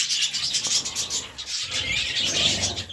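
A flock of pet birds and their young keep up a busy twittering chorus nearby, rising and falling in loudness throughout.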